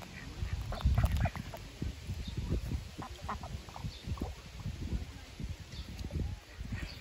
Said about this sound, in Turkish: Ördekleri gördüm dedim, hemen yanlarına bir ışınlanayım.